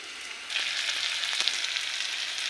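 Prawns in a ground cumin, ginger and garlic paste sauté in a pan, giving a steady, moderately loud sizzle throughout with a few small crackles and no voices.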